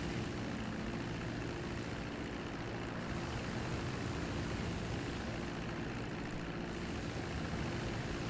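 A Dodo propeller plane engine drones in a video game, a constant loud broadband roar with a steady low hum, unbroken throughout and heard alone.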